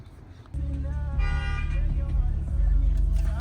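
A car horn honks from outside a parked Lexus GS300, a sustained bright blare over a steady low engine or cabin hum, fairly close and loud, with no talk.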